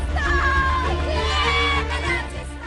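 A crowd in Balochistan cries and shouts, many overlapping raised voices and wails blending into a loud, continuous outcry.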